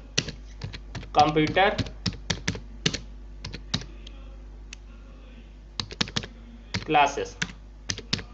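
Typing on a computer keyboard while entering text into a file, with bursts of quick clicking keystrokes between stretches of someone speaking Hindi nearby.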